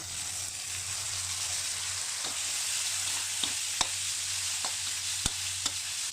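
Boiled pork belly sizzles and fries steadily in shrimp paste in a pan, a continuous hiss with a few sharp pops and crackles from stirring, close and alone without talk.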